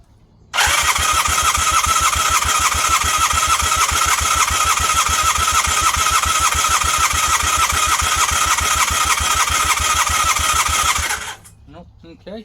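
A Honda Hondamatic 400 motorcycle that has sat for over 20 years cranks steadily and loudly for about ten seconds, its starter churning in a fast, even rhythm before cutting off abruptly without catching.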